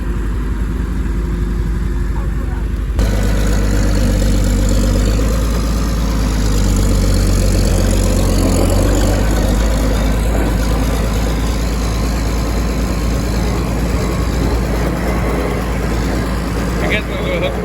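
A 1456 tractor engine idles with a deep, steady rumble throughout, loud and close, while a person speaks over it.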